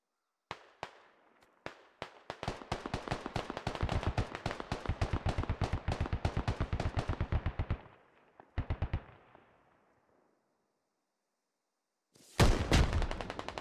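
Sustained machine gun fire in the tactical shooter SquadOps: a long rapid rattling burst, a short follow-up burst, a pause of silence, then more loud gunfire starting abruptly near the end.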